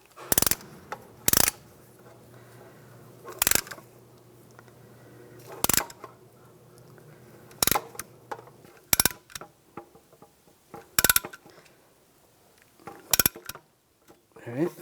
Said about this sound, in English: Now open the bleeder screw with the caliper compressing tool. We're going to compress the caliper nice and slow.